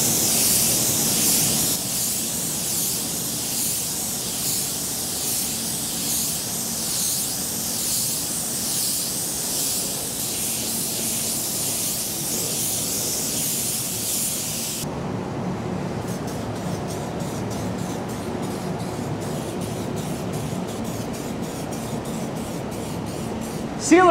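Paint spray gun hissing steadily as sealer is sprayed onto a car bumper, a constant airy spray lasting many seconds, shifting tone partway through as the gun is eased off, with no talk over it.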